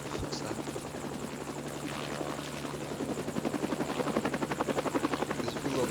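A helicopter flies in a video game, its rotor a continuous throbbing buzz with a steady whine that grows louder and more sharply pulsed toward the end, with no talking.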